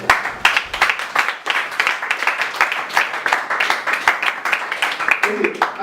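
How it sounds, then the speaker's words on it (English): A crowd applauds, many hands clapping together in a loud, steady, rhythmic patter that carries on throughout. "Let's give him a round of applause."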